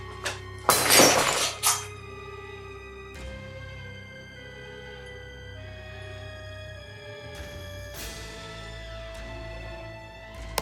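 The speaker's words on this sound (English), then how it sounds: "The glass suddenly cracks and breaks without warning, despite the gentle touch" A drinking glass suddenly cracks and shatters, a sharp burst of breaking glass with clinking fragments in a quiet room, followed by softer ringing tones and a few faint knocks.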